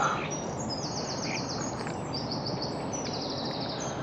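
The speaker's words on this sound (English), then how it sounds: "the birds are just tweeting in the background" Birds tweet repeatedly in quick chirping runs outdoors, moderately distant, over a steady background hiss.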